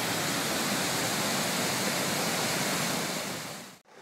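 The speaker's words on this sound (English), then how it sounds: "you can actually see a little bit of the river down there as well, the water running through the gorge" River water rushes through a gorge at Salto del Indio, a constant loud roaring wash heard from nearby that fades out briefly near the end.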